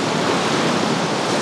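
Waves breaking along the beach at Anapa under grey skies, a brief, even wash of surf noise, near and unbroken, with no one speaking.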